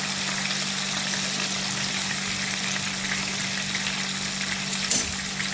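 Sardines frying in a pan of oil give a steady, even sizzle close to the pan, a low hum underneath and one brief clink near the end, with no talking.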